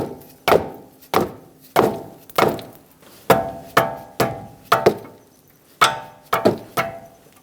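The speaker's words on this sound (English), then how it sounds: "Take a rubber mallet, tap your wrench." A rubber mallet strikes a 22mm wrench on the inner tie rod of a Nissan Pathfinder, giving about a dozen sharp, ringing metallic knocks in uneven pairs and singles, close and loud with short decays.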